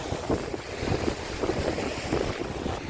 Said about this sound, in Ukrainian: А зараз він все посилюється вітерець.